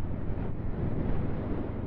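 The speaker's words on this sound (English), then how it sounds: "It is particularly windy here normally" Steady, heavy wind rushing and buffeting the microphone in the west of Scotland during a ride, a continuous low roar with no pauses and no voices.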